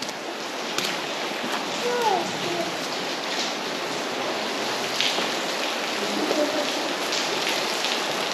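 A creek runs inside Bristol Caverns with a steady, moderately loud rushing wash that fills the whole stretch, and brief faint voices are heard over it.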